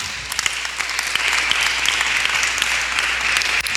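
A church congregation at a Bible teaching session claps steadily, a broad, even wash of applause with no voices on top.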